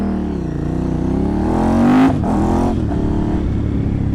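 A 2008 Ducati Hypermotard 1100S revs loudly while being ridden on its rear wheel, engine note rising and then dropping sharply, close to the microphone over steady wind and road noise.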